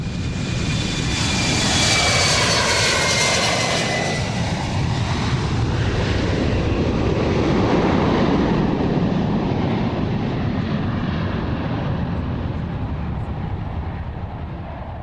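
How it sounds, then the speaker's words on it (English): An Embraer 170 regional airliner prototype flies at the Farnborough airshow, its jet engines roaring loudly in a long continuous pass with a sweeping Doppler whine that slowly fades. "a more modest regional aircraft, from Brazilian company Embraer"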